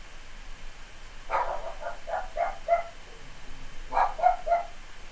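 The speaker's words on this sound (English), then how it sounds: "My dog is barking because she also does not enjoy Agile Warrior." A pet dog barks in two short bursts of several quick, fairly close barks, with quiet gaps between them.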